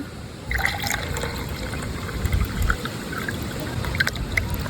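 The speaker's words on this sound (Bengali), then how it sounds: "তো এবার দিয়ে দিচ্ছি পানি।" Water poured into lemon sherbet made with squeezed lemon, sugar and salt; a continuous gurgling pour fills the container steadily, close and fairly loud, with no talking.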